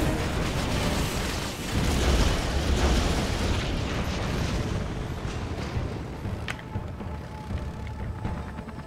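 Sustained, dense roar of missile explosions in Red Alert 3 as a Mirage tank is destroyed, loud and continuous for several seconds, thinning slightly with a crackling tail toward the end.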